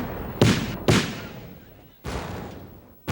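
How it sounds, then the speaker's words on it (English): Civil War cannon fire near Sharpsburg roars across a valley: four heavy booms, each a sudden loud blast that rumbles away slowly, spaced irregularly with long fading tails between them. "cannon fire could be heard thundering through the valley"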